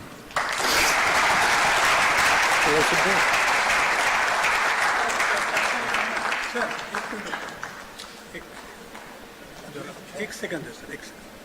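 Loud audience applause at an international film festival in Pune, dense clapping from a large crowd that holds steady for several seconds, then gradually thins and fades while a voice speaks over the tail.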